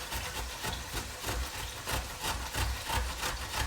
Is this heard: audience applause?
no